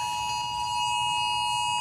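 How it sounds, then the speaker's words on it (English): Tsunami warning sirens sound across Hawaii, a steady, sustained electronic tone with faint higher overtones holding level and unbroken over a low background rumble. "as sirens go off around the state right now"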